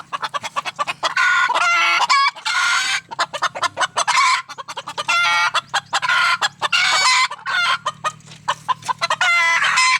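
Several junglefowl chickens clucking and squawking loudly up close as hens chase each other, overlapping in busy bursts with short pauses, with a rooster-like call mixed in.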